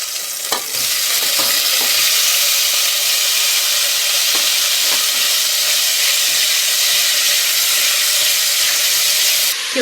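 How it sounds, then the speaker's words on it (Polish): Loud, continuous sizzling of sausage frying in hot lard in a pot, with occasional crackles and pops throughout. "I na tym smalcu podsmażę kiełbasę."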